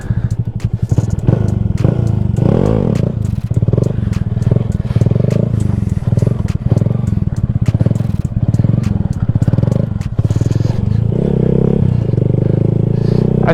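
A motorcycle doing quick stunt circles gives a loud, steady engine drone with rising and falling revs, mixed with scraping clatter and occasional crackles.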